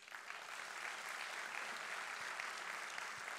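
A university audience at the University of Rhode Island claps in sustained, even applause, a continuous wash of many hands heard from a moderate distance throughout.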